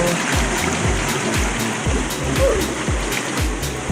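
Steady rushing stream water at a forest campsite, a continuous close wash of flowing water with faint rhythmic low thumps beneath it.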